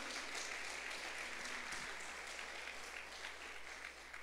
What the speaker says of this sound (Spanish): Dale una ofrenda de palmas al Rey de Reyes